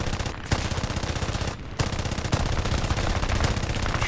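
Aircraft gunners firing machine guns in War Thunder. The bursts are loud, rapid and continuous, with two brief pauses and no speech.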